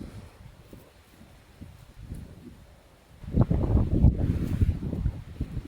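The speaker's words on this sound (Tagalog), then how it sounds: "Ang lakas ng hangin." Wind in the UK countryside buffets the microphone in low rumbling gusts, mild at first and then growing much stronger and rougher toward the end.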